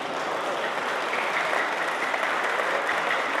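Applause from the audience at a poetry recital fills the room as a dense, steady patter of many hands clapping. It is moderately loud and sustained, with no voices over it.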